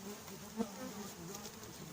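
Bees buzzing steadily around combs being pulled from a large coral rock, a faint continuous drone with one brief louder knock partway through.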